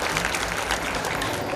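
A crowd at a temple kalasharohan function in honour of Shree Ramling Choudeshwari Devi claps together in a dense, loud burst of sustained applause.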